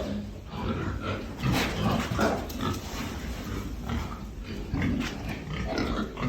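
Pigs on a farm grunt and snuffle close by, with a steady run of low grunts and occasional squeals over the sound of feeding.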